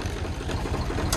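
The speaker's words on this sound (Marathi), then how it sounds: "ट्रॅक्टर चालू केलाय" A tractor engine idles with a steady, throbbing low rumble and a faint rattly knock, close and continuous throughout, with a brief sharp click near the end.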